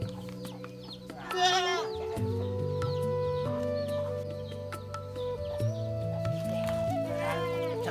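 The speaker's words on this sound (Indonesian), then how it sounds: "Wah, kini Mbah Tukipan sudah punya kambing ya teman." A goat bleats twice, close by, at a forest home, over a steady background of music or chatter with a clucking fowl nearby.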